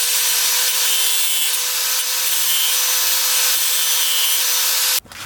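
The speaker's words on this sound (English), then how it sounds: "So I'm going to go ahead and use this angle grinder right here with the cutoff wheel and cut those off." Angle grinder with a cutoff wheel cutting down metal suspension studs on a car, a continuous loud high-pitched grinding whine held steady for about five seconds before cutting out abruptly, no talk.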